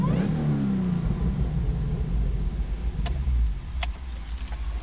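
A 2013 Chevrolet Camaro ZL1 with salvage damage runs nearby at a steady, loud engine drone, with a few sharp ticks near the end.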